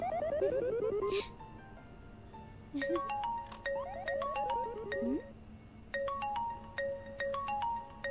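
A telephone ringtone, heard in a Marathi-dubbed film scene, plays a bright electronic melody in repeated short phrases, fairly quiet, with a brief voice-like sound before the ringing.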